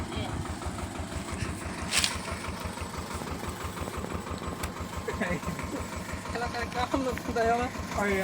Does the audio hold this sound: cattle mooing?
no